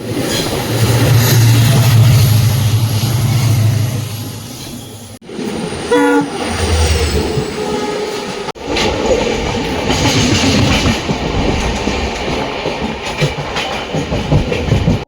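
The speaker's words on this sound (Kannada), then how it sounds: "Train number 16989 KSR Bengaluru Sangli Rani Chennamma express ಅಲ್ಲಿ ಇವತ್ತು ನಾನು ಟ್ರಾವೆಲ್ ಮಾಡ್ತಾ ಇರೋದು." The Rani Chennamma Express, train number 16989 running from KSR Bengaluru to Sangli, rumbles loudly with continuous rail clatter, its horn blaring in a long low blast early on and again briefly midway.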